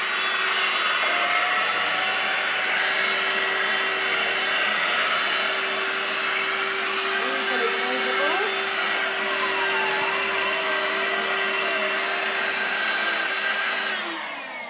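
A Vax Air Cordless Switch vacuum cleaner runs at close range with a continuous, loud whooshing whir and a steady motor tone, holding constant before it tapers off at the end.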